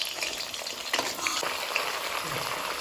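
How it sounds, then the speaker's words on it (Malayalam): Chicken pieces frying in hot oil for biryani crackle and sizzle steadily up close, with a brief clatter of stirring partway through and no voices. "എണ്ണ ചൂടാകുമ്പം ചിക്കൻ കഷ്ണങ്ങളൊക്കെ അതിലിട്ട് വറുത്ത് കോരണം"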